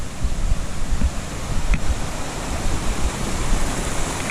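Strong white-water flow of a mountain creek on a mid-August hike near Bishop Pass, a steady loud broadband rush with no pauses, close to the microphone, with no voices.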